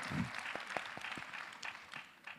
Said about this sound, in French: quelques applaudissements d'abord